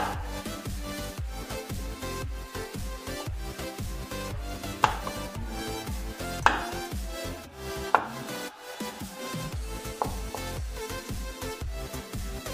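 A knife cuts long sweet potato slices in half on a board, producing a steady run of close, crisp chopping knocks with a few sharper taps standing out, with no talking.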